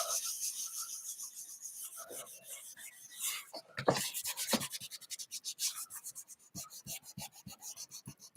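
Fingers rub colouring into paper in steady, close strokes, a dry rhythmic scratching that starts sparse and becomes regular, quick back-and-forth rubs.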